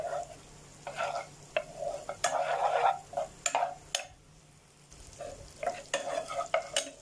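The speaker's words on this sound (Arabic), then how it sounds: "الزبده بس تسيح وانزل بالتوم على طول" Garlic fries in melted butter for a sauce, bursts of sizzling and stirring scrapes coming in irregular clusters with short quieter gaps, close and fairly soft, with no talk.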